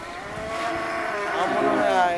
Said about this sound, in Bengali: গরু আসতেছে কিন্তু